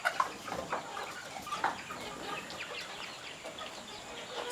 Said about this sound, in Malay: Sini ada reban ayam.